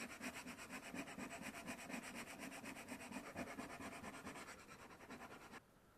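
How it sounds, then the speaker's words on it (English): Sanding a broken Frigidaire refrigerator handle by hand with fine 200 grit sandpaper, a steady rhythmic back-and-forth scratching of about a dozen quick strokes, close and alone, stopping just before the end. "now I'm working my way up to a finer 200 grit sandpaper"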